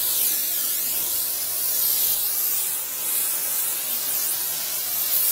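A continuous hiss of aerosol spray, loud and close, wavering slightly as the can sweeps across the bottom of a bowl used as a hypertufa mold, with no talking.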